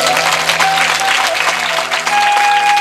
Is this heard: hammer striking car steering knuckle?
no